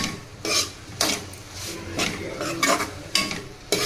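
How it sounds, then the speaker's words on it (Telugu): A spoon stirs salt into gongura fry in a pan, scraping in repeated strokes roughly every half second over a faint cooking hiss, close by with no talking. "దాంట్లో తగినంత ఉప్పు వేసుకోవాలి బాగా కలుపుకోవాలి"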